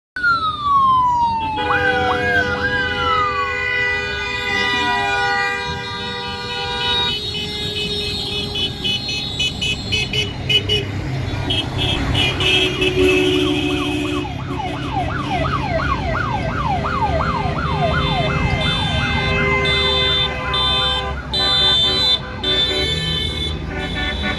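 Wailing police sirens rise and fall repeatedly, joined by honking car horns and traffic noise in a Republic Day police motorcade in Bodrum, Turkey, with ATVs and off-road vehicles.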